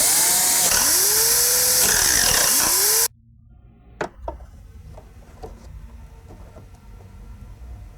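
Corners of a plastic inner trim ring from a 2018-20 Jeep Wrangler JL cold air intake trimmed with a power tool, heard as a loud whirring cut with rising and falling pitch that stops abruptly, followed by scattered light clicks and knocks.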